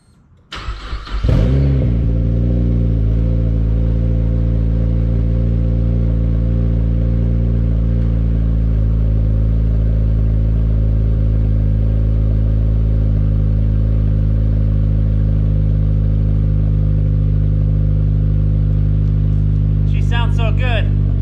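A built Mazdaspeed6 engine cranks and catches, then settles into a loud, steady rumbling idle close by, with a faint clatter near the end.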